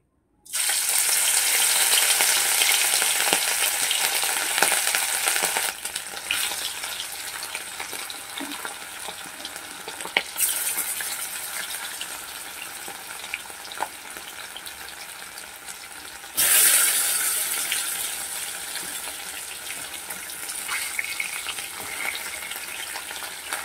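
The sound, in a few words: hilsa fish frying in hot oil in a wok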